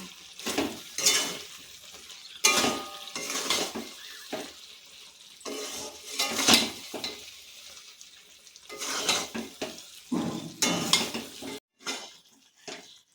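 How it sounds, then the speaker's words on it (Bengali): A spoon scrapes and knocks against a pan while spices are stirred into a sweet jujube (kul) pickle. The bursts of stirring come in intermittent rhythmic strokes, close and fairly soft, and no one is talking. "এবার দিয়ে দেব মশলাগুলো দিয়ে ভালোভাবে নেড়ে নেব"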